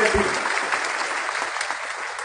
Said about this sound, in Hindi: गांव के लोगों के लिए तालियां बजाओ सबसे ज्यादा